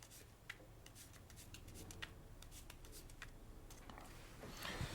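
A deck of playing cards being riffled and shuffled by hand during sleight-of-hand card magic, a run of quick papery flutters and snaps lasting several seconds at close range with no talk.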